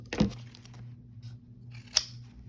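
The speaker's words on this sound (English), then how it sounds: "with the larger scissors, they cut just as well" Small scissors snip crisply, with one sharp close cut near the start and a second bright snip a couple of seconds later, and a quiet pause between them.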